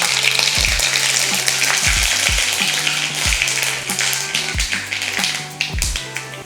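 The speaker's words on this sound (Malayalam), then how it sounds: "ഒരു സ്പൂണ് കടുകിട്ടിട്ടുണ്ട്." A spoonful of mustard seeds crackle and pop in hot oil for a Kerala-style gooseberry pickle, sharp repeated spatters and taps over a continuous sizzle, close and fairly loud.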